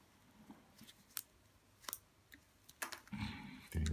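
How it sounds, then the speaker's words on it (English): Hand cutters snip through the outer sheathing of telephone or Cat 5 cable. A few quiet, crisp clicks are spaced apart, followed by a louder rustling crunch at the end. "use this cutters to cut the sheathing off"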